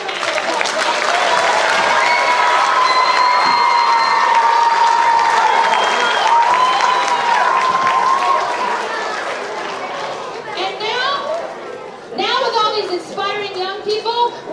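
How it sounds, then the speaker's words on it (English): An audience at a school spring concert applauds the parents, with sustained clapping mixed with cheering voices, then fading into chatter and people talking near the end. "So let's give our parents a round of applause."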